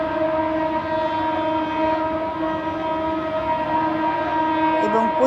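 Passenger train running slowly toward Baidyabati on a suburban railway line, a steady distant rumble with a sustained tonal drone, continuous and moderately loud, with no talk.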